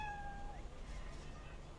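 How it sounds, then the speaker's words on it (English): Cat in Cyberpunk 2077 gives a single short, faint meow at the start over a low, quiet ambient hum. "Oh, there's a cat."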